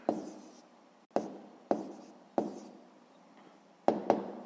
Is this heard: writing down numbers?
yes